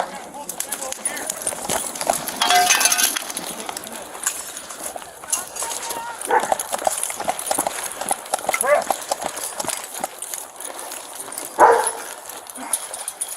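A dog barks and whimpers inside a house during a police welfare check, with scattered yelps and scrabbling sounds under ongoing voices and movement.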